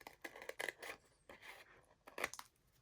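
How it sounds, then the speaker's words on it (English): Scissors snip through paper while making a Christmas ephemera coffee mug pocket, giving a handful of quiet, close, crisp cuts in uneven bursts with short pauses between them. "cut without moving the scissors"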